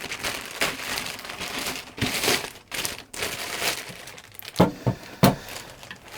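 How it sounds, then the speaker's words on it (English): A plastic bag is pulled off a hot air SMD rework station, producing steady close crinkling and rustling with a few sharper crackles toward the end, and no talking. "Now the unit itself is in a plastic bag, so this will be removing that."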